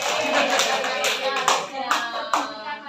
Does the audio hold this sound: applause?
yes